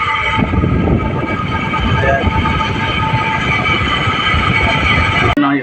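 A loud, steady mechanical drone of a noisy window-type air conditioner fan motor, not the compressor, runs continuously with a rough whirring rattle, ending in a sudden cutoff.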